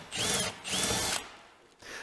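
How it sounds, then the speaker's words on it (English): A power drill with a 3/16 bit drills the heads off the rivets holding quarter-turn plastic retainers on a car bumper, two close, loud whining bursts followed by a quieter spin. "we're gonna grab a drill and uh, with a 3 16 drill bit and we're basically gonna be drilling just the head off of the, the rivets"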